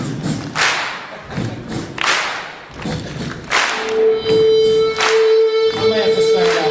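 An audience stamps their feet on a floor in a series of loud, heavy thuds, some in rough unison, while a sustained tone and a voice come in near the end.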